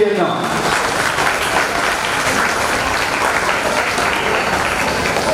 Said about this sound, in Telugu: కాబట్టి చప్పట్లతో ఆయనకి జన్మదిన శుభాకాంక్షలు తెలియజేద్దాం